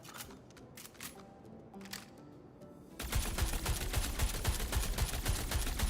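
Sustained automatic gunfire in Star Citizen bursts in loud and dense after a quieter stretch of scattered shots, a continuous rattling stream of rounds close up.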